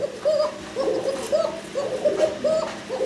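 A pair of pigeons, a running breeding pair, coo steadily in repeated soft, throaty phrases, close by and continuous with no pause between calls.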